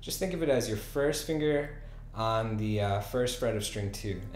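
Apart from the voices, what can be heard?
No distinct noise like a dog, phone or traffic.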